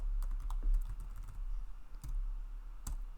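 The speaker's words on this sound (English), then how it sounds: "you are just typing in the website that you want to check" Fingers tap out a website address on a computer keyboard, giving a quick burst of close, crisp key clicks, then a pause and a few more isolated keystrokes.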